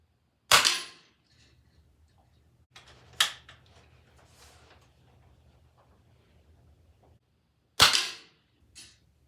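.177 Weihrauch pellet gun shots fired at a trap outdoors, two sharp, loud cracks several seconds apart with a fainter snap between them and a small click after the last, over a quiet low rumble.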